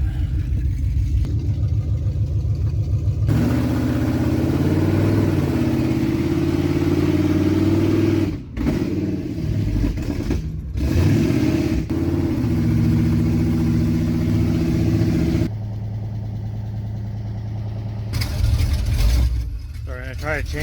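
A Chevrolet Suburban engine with a carburetor problem stumbles under throttle, droning unevenly with surging, faltering revs and brief dips, close and loud, with someone talking over parts of it.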